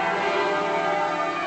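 Church bells peal for a royal wedding, a dense layered ringing of several bells sustained and even, fairly loud and without voices.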